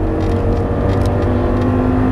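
Audi R8 engine at full throttle on a race track, a loud, sustained in-car drone of the motor holding steady under acceleration, close and unbroken.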